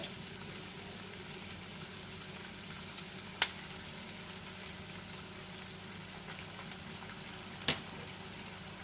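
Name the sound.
soy sauce added to sizzling chicken Manchurian in pan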